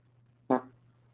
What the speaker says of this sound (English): juicy fart.